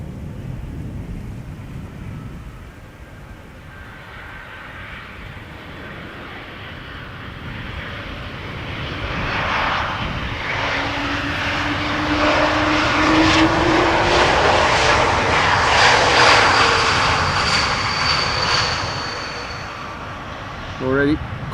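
A KLM Embraer 190 arriving from Glasgow lands at Amsterdam Schiphol, its jet roar swelling from a distance to a loud, broad rush and then fading, with wind buffeting the microphone.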